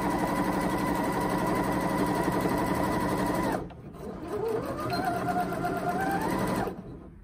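A Janome 1050DC sewing machine stitching fabric, its fast steady mechanical whir running for several seconds, pausing briefly, then resuming at a rising pitch before stopping.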